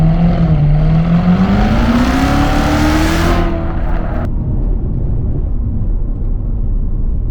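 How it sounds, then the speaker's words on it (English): A supercharged 650 hp C7 Corvette Z06 engine revs up and roars loudly close by, pitch climbing steadily before dropping abruptly into a lower, sustained growl. "something about this supercharger, it does not ruin the noise that the car makes"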